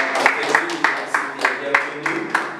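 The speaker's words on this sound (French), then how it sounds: "Alors, nous applaudissons frère Loussné." Scattered hand claps from a small audience at a French-speaking church gathering, a handful of distinct claps spaced across a couple of seconds, fairly close and moderately loud with a faint hum underneath.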